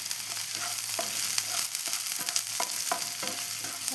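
Shallots, green chilli, garlic and ginger fry in oil in a pan, a close, continuous hissing sizzle with the soft scrape of stirring every half second or so.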